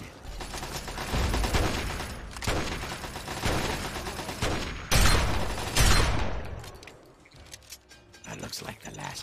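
Gunfire in the video game Fallout 3, an enemy carrying a minigun among the shooters: dense, loud bursts of rapid shots and booms in sustained volleys, with a voice talking over the firing.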